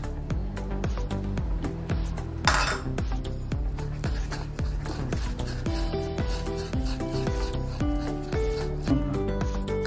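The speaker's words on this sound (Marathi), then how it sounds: "तर पीठ हलवून घेतलेलं आहे" Batter for batata bhaji, potato fritters, is stirred briskly in a bowl, a fast, steady rhythm of close scraping strokes with light clinks against the bowl's sides, continuing throughout without talk.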